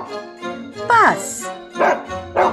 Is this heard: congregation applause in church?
no